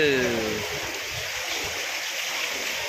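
Steady rushing flood water flows loudly throughout, a broad continuous wash with a brief splashy tone at the start, in Velachery.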